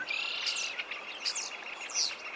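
Red-winged blackbird calls ring out three times in quick succession from an aspen grove across the Clark Fork River near Missoula, Montana, in late April, bright trilling notes over a faint steady background.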